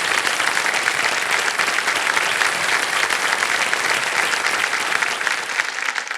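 A studio audience at a television quiz show, KBC, breaks into sustained, steady applause, many hands clapping loud and even throughout with no pause.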